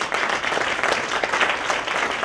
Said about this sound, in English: Give the board a big round of applause